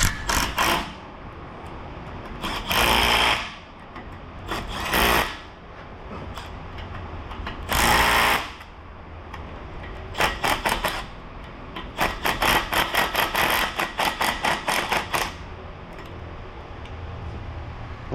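A bolt is tightened on a 2018 Jeep Wrangler with collision damage, producing bursts of rapid ratcheting clicks, several short runs and a longer rattling series near the end, close and loud.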